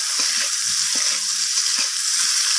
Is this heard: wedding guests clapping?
no